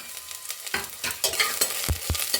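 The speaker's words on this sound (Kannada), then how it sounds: "ಫ್ರೈ ಮಾಡ್ಕೊತೀನಿ ಫಸ್ಟು" Onion and garlic fry in hot tempering oil for a Mangalore cucumber sambar, a close crackling sizzle broken by several sharp stirring scrapes of a spoon against the pan.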